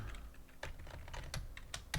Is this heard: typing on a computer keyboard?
yes